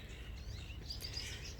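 Birds chirp and call faintly from trees outdoors, with light tweets scattered over a steady low background hum and no voices.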